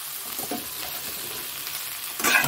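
Chopped banana flower goes into a pan of frying potatoes. A close, steady sizzle with light stirring noises runs throughout, then a louder crackling burst arrives near the end as the new ingredient hits the hot oil.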